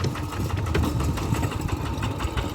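A farm vehicle's engine runs steadily close by, a continuous low chugging drone throughout, with no voices over it.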